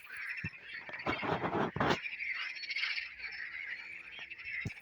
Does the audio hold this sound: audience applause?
no